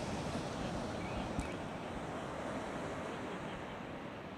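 Waves breaking on a sandy beach on the west coast of North America, a steady broadband wash of surf with wind noise on the microphone, continuous and fairly loud throughout with no voices.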